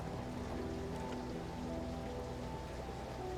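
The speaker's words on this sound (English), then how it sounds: "oh, the water's getting drained" Water drains away in The Talos Principle with a steady rain-like hiss and patter, even and moderately loud, accompanied by faint sustained tonal notes.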